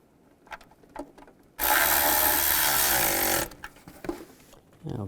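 Loud, steady broadband burst of an impact or power tool on exhaust manifold hardware of a 2002-2009 Chevrolet Trailblazer, running about two seconds alone amid quieter clinks and handling noise.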